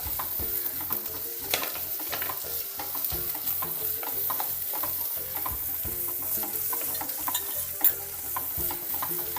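Shallots sauté in a pan with a constant close sizzle, the oil crackling evenly while a spatula stirs with soft repeated scrapes; no speech.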